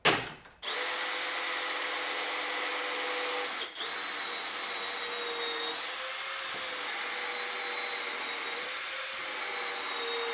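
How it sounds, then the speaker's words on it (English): A power drill bores a hole into the center of a work table leg, a sharp start followed by a steady, continuous whine with a brief dip midway, heard close and alone. "All I'm going to do is drill a hole right in the center of the leg and just slip this thing in."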